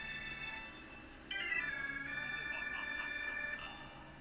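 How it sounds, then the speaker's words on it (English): A mobile phone ringing indoors, a faint electronic warbling ringtone that starts partway in and holds a steady tone over a quiet room background. "Interesting, that's my phone ringing."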